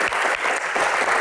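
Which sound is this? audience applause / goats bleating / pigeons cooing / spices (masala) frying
audience applause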